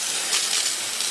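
A virus-killer fogger sprayer hisses out a dense mist indoors, a steady broad hiss running unbroken and fairly loud with no voices over it.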